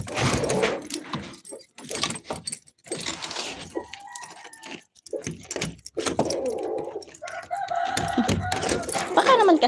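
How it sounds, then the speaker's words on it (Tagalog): Chickens cluck on a roof and a rooster crows nearby, mixed with jangling metallic rattles and bursts of scraping noise. "May mga manok naman sa bubong ko."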